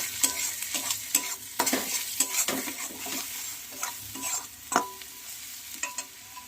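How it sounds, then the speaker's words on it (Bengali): A spoon scrapes and stirs spices with Kashmiri chili powder in a frying pan, with soft sizzling and irregular clinks of utensil against metal, close and fairly quiet. "আর দেবো কালারের জন্য কাশ্মীরি লঙ্কা গুঁড়ো। ভালো করে নেড়ে চেড়ে নেব।"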